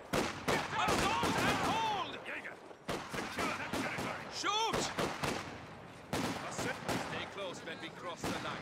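Rapid bursts of gunfire and flak explode in the video game Company of Heroes 2, with repeated loud volleys broken by brief gaps and whistling tones, while a voice talks over the action.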